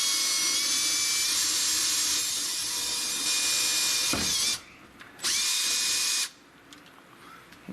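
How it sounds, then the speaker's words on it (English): A power drill whines steadily as it bores a hole for a chicken setup, then stops, runs again briefly, and cuts off into near silence. "So let's drill a hole."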